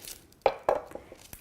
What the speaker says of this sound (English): So I'll move this to the side and make a cut in the onion.